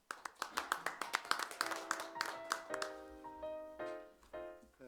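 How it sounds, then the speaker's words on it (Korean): A seminar audience at an institute's opening ceremony claps to welcome a speaker: a quick run of close, distinct claps that thins out as music swells in, all fairly quiet. "큰 박수로 환영해 주시기 바랍니다."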